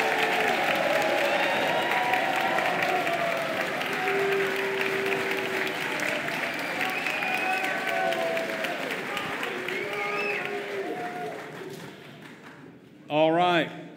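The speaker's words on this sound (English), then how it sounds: "Round of applause." An audience at the MS Boys State 2013 candidates' debate applauds steadily and loudly for around twelve seconds, the clapping thinning and fading near the end, with voices mixed in and a brief loud burst closing it.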